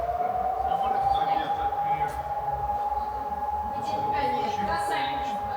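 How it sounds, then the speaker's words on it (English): A long, steady air raid siren wails on continuously in the distance in Kharkiv, Ukraine, holding a single sustained pitch over low rumbling background noise. "You can hear the sirens."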